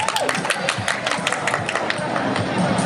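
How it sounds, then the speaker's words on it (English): Comic-Con crowd applauding and cheering a guest on stage during a talk session, continuous dense clapping with a few raised voices throughout. "Round of applause, please, for Jason, our Power Ranger."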